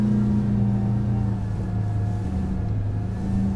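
A Frauscher x Porsche electric boat accelerating on swell with the drive dropped, giving a steady low hum and whine with rumbling water beneath, continuous and close.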